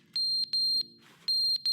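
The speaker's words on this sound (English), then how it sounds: "Is the fire alarm beeping?" Repeated high electronic beeps from a fire alarm in the video game The Stanley Parable, sounding in two clusters of short and longer tones with a brief gap between, clear and alone.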